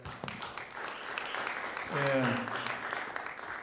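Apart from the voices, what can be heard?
audience applause for Buddy Muhammad at a recital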